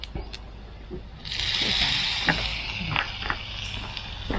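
Preserved radish stir-fried in a pan sizzles in a steady hiss that swells after a second, broken by scraping spatula strokes and small clinks; no talk.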